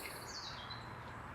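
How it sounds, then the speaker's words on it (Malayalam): Birds chirp and tweet faintly in a small garden in Kleve, Germany, on a sunny day, with thin, high calls rising over a soft outdoor hush. "നിങ്ങൾക്ക് കിളികളുടെ സൗണ്ട് കേൾക്കാനുണ്ടോ?"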